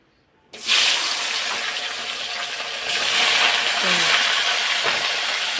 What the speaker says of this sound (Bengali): দিয়ে দিলাম সব তাই একটু ভাজা ভাজা করে নিই